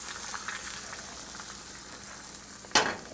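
An egg sizzles steadily in a hot pan seasoned with fresh cracked black pepper, a close, even frying hiss, capped near the end by one sharp scrape of a utensil against the pan.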